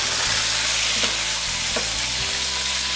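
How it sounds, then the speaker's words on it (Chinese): Crab halves frying in hot oil in a wok, a steady loud sizzle running unbroken for three seconds with faint stirring taps, no voices. "把螃蟹煎至变色，"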